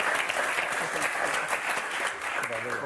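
A studio audience at a French television game show applauds continuously, dense steady clapping filling the whole moment with a faint voice underneath.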